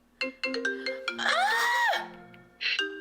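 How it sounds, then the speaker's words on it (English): A mobile phone ringtone plays close and loud as a bright melodic electronic jingle of stepped notes and a rising-and-falling sweep, pausing briefly before the tune starts again. "Your phone is ringing."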